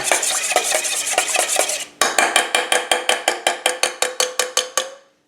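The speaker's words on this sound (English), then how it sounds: "So I'm just going to basically stir this up a little bit." Food gets stirred in a bowl to make a coating for vegetarian wings, a utensil scraping and clinking against the sides in quick rhythmic strokes, close and clear, ending with a string of regular beats.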